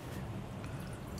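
Water poured into a bowl for focaccia dough in a home kitchen, a short soft trickle and splash heard close up, with no talking over it.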